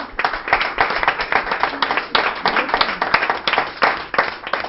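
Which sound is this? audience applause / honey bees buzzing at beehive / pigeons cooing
audience applause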